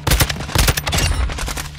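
Rapid automatic gunfire in Call of Duty: Modern Warfare II, loud bursts of close shots with short pauses between volleys, no talk over it.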